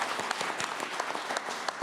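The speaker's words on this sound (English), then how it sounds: "Would you give a round of applause to the panelists?" Audience members at a global dialogue session in Tokyo applaud the panelists, a brief burst of steady, moderately distant clapping with no voices over it.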